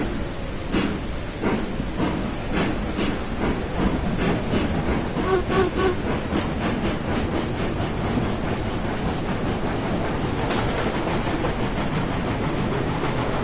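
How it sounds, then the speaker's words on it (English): Steam locomotive hauling a string of train cars in the Railroads Online video game, with a steady rhythmic chuffing beat over continuous rolling rail noise and wind-like rumble, fairly close and loud throughout. "I'd love to see old number 7 running,"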